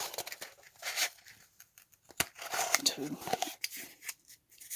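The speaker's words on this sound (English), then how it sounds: "the thing to do is basically cut them to the length you want" Homemade fire starter tubes being cut to length, with irregular snips and crinkly cutting sounds under a person talking nearby.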